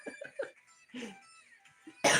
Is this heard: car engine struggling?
no